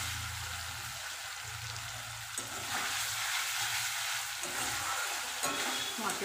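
Masala fries in a pan with an even, close sizzle and occasional stirring scrapes, with no talking.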